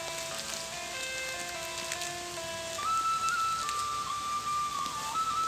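Rain starts up again on a hillside trail, a soft, even wash of falling drops close by, with faint whistle-like tones drifting over it.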